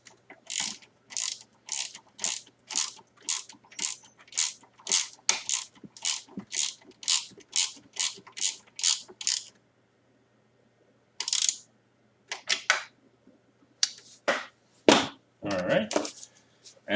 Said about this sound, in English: I recommend getting a ratchet with a long socket because it is tight in there